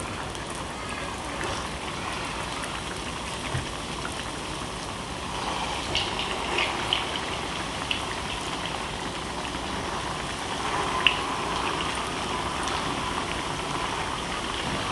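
Bread potato tikkis frying in hot oil for veg burgers, a steady even crackling sizzle like light rain with occasional small pops, close and continuous, no voices.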